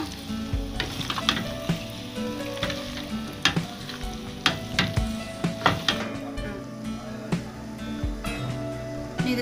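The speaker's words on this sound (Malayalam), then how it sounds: "ഇതും കൂടെ ഒന്ന് നമുക്ക് നന്നായിട്ട് ഇളക്കി കൊടുക്കാം" Chicken pasta with garam masala frying in a pan, a constant sizzle broken by repeated scrapes and knocks of the spoon as it is stirred, close and alone.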